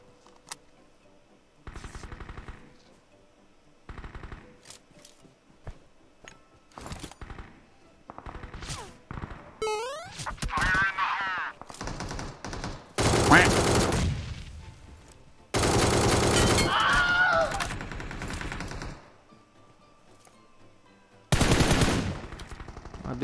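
Bursts of automatic gunfire in the battle royale game PUBG on the Erangel map, loud volleys broken by pauses and sharp impacts, firing in repeated sustained strings until the ammunition runs dry.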